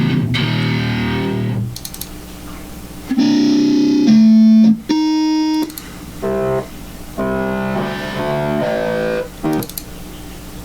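A Burning Evil distortion effect preset in Ableton processes sustained synth tones into loud, gritty buzzing chords and held notes, played in separate phrases with short gaps between them.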